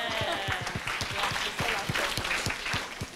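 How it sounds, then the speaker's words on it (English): Audience applause at a UX design summit session on Dungeons and Dragons: a steady, dense wash of clapping from a hall crowd, sustained evenly throughout. "let's give a round of applause for that."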